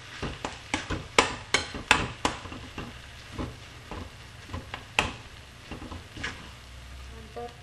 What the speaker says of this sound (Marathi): आणि लगेचच उकडलेला बटाटा आणि त्याला व्यवस्थित आता मिक्स करून घेऊया।